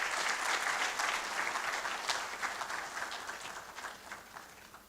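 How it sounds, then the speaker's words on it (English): An audience at a scientific research conference's opening ceremony applauds steadily, dense clapping that slowly fades toward the end. "please let's continue to applaud her"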